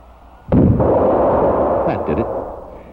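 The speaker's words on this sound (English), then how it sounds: "He will fire and adjust until the rifle is sighted in." A rifle fired while being sighted in: a single loud, muffled blast opens into a long, rumbling boom that fades slowly, with a dull, old-recording quality.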